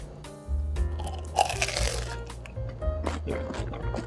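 A crunchy McDonald's taro pie is bitten into up close, giving a loud crisp crunch followed by moist chewing and squishing of the filling, all without speech.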